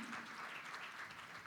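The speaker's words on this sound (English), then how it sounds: "Big round of applause, everyone." Audience applause for a panelist at a panel discussion on cultural transformation: steady, dense clapping from a roomful of people, sustained evenly throughout without any speech over it.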